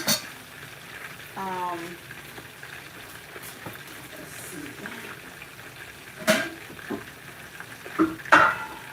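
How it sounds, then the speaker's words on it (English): Fish fries in a pan in a Liberian-style home kitchen, giving a soft, low sizzle under quiet background noise, broken by a few clinks and bumps, with a voice speaking briefly. "I'm just waiting for the fish to kind of like fry"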